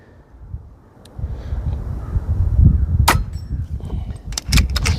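A RAW HM1000 Micro Hunter PCP air rifle fitted with a suppressor fires, giving a quiet sharp snap with metallic clicks of the action after it, over low outdoor background rumble.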